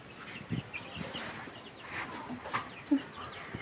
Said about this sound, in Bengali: সেই মুরগি দেখেন কত বড় হয়ে গেছে